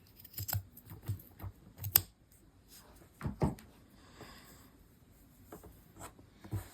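Scissors snip through the wound edge of a yarn loop to make tassels for a crocheted rug. The cuts come as a few soft, close, crisp snips with quiet rustling of strands between them.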